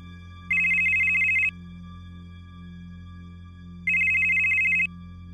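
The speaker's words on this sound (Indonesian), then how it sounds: "ngedenger HP-nya dia bunyi. Ada telepon masuk" A mobile phone rings with an incoming call: two loud electronic ringtone bursts, each about a second long, separated by a pause, over a low steady background hum.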